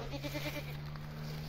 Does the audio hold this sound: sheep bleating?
yes